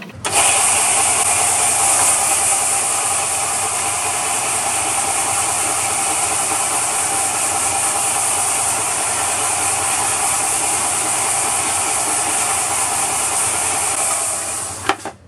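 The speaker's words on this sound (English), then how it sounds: "we come over to the old belt sander that sits out in the middle of the floor." Old belt sander softening the edges of wooden cutting boards gives a loud, steady whirring hiss that runs nearly unchanged for about fifteen seconds, then cuts off with a small knock at the end.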